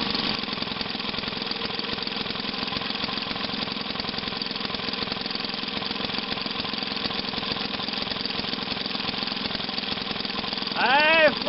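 A restored 1937 Maytag model 72 engine runs continuously with a rapid, even putt-putt beat, loud and close, and a voice speaks briefly near the end.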